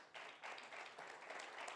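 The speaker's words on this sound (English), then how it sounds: "Please give him a round of applause." An audience at a transport industry dialogue gives a round of applause, a soft, distant wash of clapping that swells in waves and holds steady throughout.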